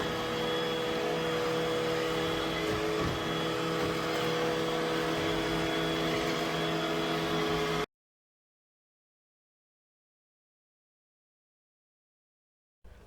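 A Roomba robot vacuum fitted with a replacement motor runs with a steady, close, humming whine for about eight seconds, then cuts off abruptly into silence.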